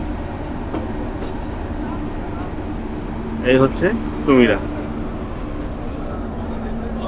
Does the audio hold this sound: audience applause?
no